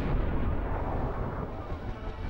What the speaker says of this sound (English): So those five sounds make up the gunshot sound.